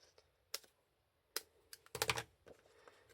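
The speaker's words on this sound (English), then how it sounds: "I'm going to use my scissors just to cut up a small patch." Paper being cut with scissors while making a gatefold card: a few quiet, sharp snips and crisp clicks spaced apart, then a short cluster of rapid cuts near the end, close and faint with no talking.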